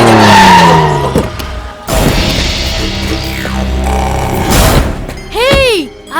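A car speeding up and skidding to a stop with loud tyre squeals, the screech sweeping up and down, then short chirping squeals near the end, with voices talking over parts of it.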